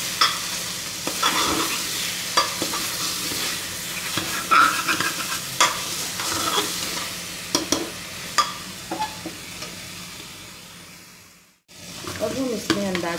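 Arbi and nenua mixed vegetables are stir-fried in a pan, giving steady close sizzling with repeated scraping and stirring strokes from a spoon against the pan.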